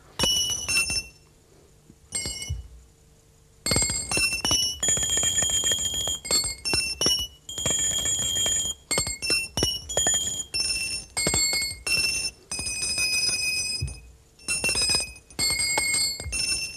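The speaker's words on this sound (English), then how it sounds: "And this is a little chime." A small metal chime rings out in a magic act, struck again and again in bursts with short silent gaps, each bright ringing tone hanging briefly before stopping.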